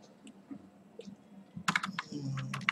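Quick bursts of typing on a computer keyboard, with scattered single key clicks at first and then a dense run of rapid keystrokes, close and clear, with no talking.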